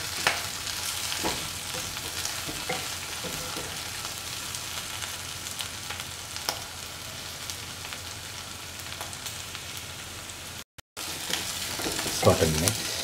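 Chilli taro root (colocasia, arbi) with its ingredients is stirred and tossed in a hot pan, a steady loud sizzle running throughout with scraping stir strokes and a brief drop near the end.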